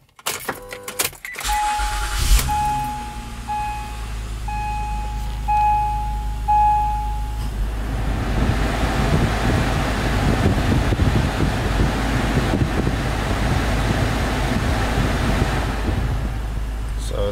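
An Acura MDX air conditioner blows cold air, starting with a few evenly spaced chime beeps before turning into a loud, steady broadband rush of airflow inside the car cabin.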